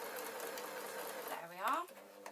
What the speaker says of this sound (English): I'm going to sew right up to the previous seams of where we did the top.